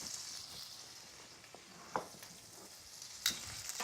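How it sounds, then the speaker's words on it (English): Butter melting into olive oil in a hot pan gives a faint, steady sizzling hiss, with a couple of sharp clicks or clinks from the pan cutting through. "You can actually hear that start to sizzle."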